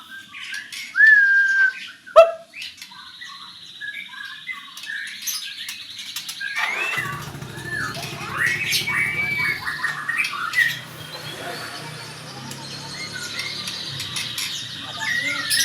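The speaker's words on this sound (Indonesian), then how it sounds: "Oke, burung udah lapar" Hungry caged songbirds squawking and whistling in bursts, with sharp high calls early, then a busier stretch of chirps over a low background hum.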